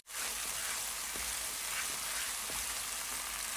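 Spice paste sizzling steadily in a hot pan with a little water added, a dense continuous hiss with a few faint clicks of stirring, close and loud with no talking.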